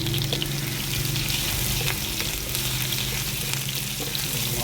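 Ginger dropped into hot ghee sizzles and crackles loudly, with a dense, continuous frying hiss that includes small pops and the scrape of stirring. Nobody speaks.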